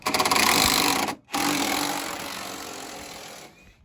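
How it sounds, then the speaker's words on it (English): Removing the last two bolts of Jeep TJ nerf bars: a loud, harsh power-tool whine and grinding buzz runs close by, cuts out for a moment, then resumes and fades down before stopping. "pulling off the last 2 bolts"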